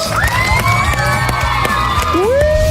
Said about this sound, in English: So big round of applause for the girls.